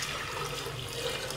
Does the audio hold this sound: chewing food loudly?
no